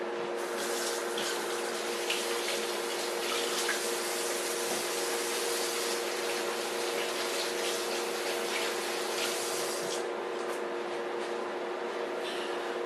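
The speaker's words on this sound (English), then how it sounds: "I'm immediately going to wash my hands." Kitchen tap running steadily for hands being washed after handling raw beef, a continuous close splashing hiss that carries on unbroken for about ten seconds before easing slightly.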